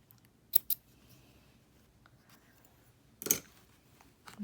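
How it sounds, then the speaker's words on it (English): Scissors snip close by through the fuzzy ends of needle-felted wool on a small felt dumpling: two quick clicks, a pause, then one louder snip, with a faint click at the end. "Go ahead and cut these off with your scissors."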